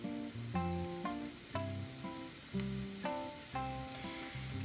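Bitter melon (goya) stir-fries in a pan with a soft, continuous sizzle and occasional stirring. A louder melodic musical backdrop plays in pulsing phrases over it.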